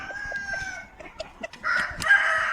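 A fighting rooster crows close by, a strained, drawn-out call near the end, preceded by softer clucks and scattered farmyard sounds.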